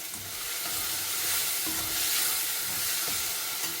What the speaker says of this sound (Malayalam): തക്കാളി ഇതിൽ കിടന്ന് നന്നായി വരട്ടെ